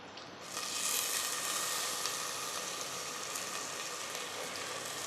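Soaked moong dal hits browned onions in a hot pan and sets off a loud, steady sizzle that swells within the first second and then holds as a dense, even hiss, with no voices.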